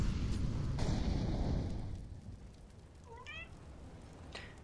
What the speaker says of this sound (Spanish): está la gata más cerca del micro que yo ahora mismo